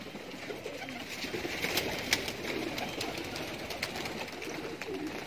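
Young pigeons released from an aviary during training flap into flight outdoors, with soft wingbeat bursts and occasional coos over a steady background hiss, with no talking.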